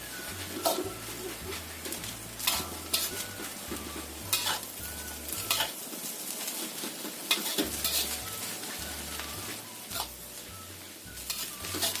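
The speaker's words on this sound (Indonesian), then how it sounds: "Kita aduk." Fried rice vermicelli (bihun goreng) sizzles in a pan while a utensil stirs and scrapes it, with irregular clinks and scrapes over a continuous frying hiss and a soft rhythmic music bed underneath.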